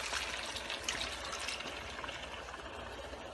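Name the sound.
pouring milk into the biryani pot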